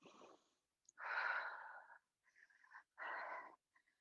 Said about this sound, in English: Breathe in, nice and deep breaths here.